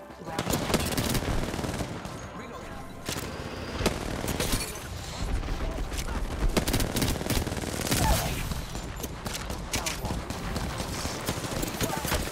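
Rapid automatic gunfire and bursts of shooting from an Apex Legends match, dense and loud throughout with layered shots and impacts, while a voice talks intermittently over the action.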